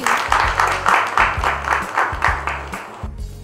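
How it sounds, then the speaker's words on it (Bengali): An audience claps for Samiha, the winner of a round on a Bangla TV game show, in steady rhythmic bursts that sound loud and close and keep going until they stop abruptly near the end. "সামিহার জন্য জোরে করো তালি"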